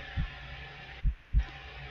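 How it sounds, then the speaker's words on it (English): Heartbeat sound effect from a horror video game: a single low thump followed by a close double thud, muffled and bassy over a steady dark ambient hum, with no voices. "I can't tell if that was my heartbeat,"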